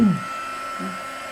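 A heat tool blows hot air to warm a hexagonal mosaic piece, giving a steady whirring hiss with a thin constant whine. The sound holds at an even level throughout, with no talking.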